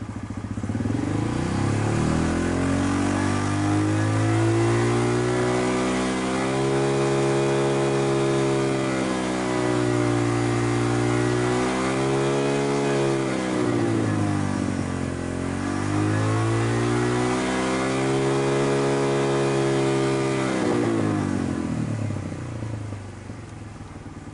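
A motorcycle engine on a race stand revs in first gear, loud and close, climbing and falling through several long rev sweeps and a steady high drone over about twenty-four seconds.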